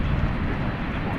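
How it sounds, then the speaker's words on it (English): Boeing 747-400 airliner, about 18 years old, at Dallas Fort Worth airport at night on a windy day, a steady broadband jet rumble under speech. "This is a 747-400."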